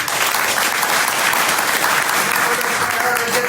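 An audience at a book launch party keeps up loud, continuous clapping, a full steady roar of hands with a faint voice briefly audible beneath it.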